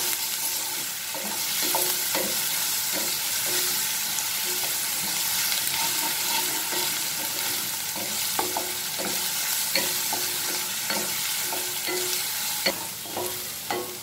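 Onion, ginger, garlic and green chilli fry in a pan for Amritsari dhaba-style paneer bhurji, a steady loud sizzle broken by repeated clicks and scrapes of stirring.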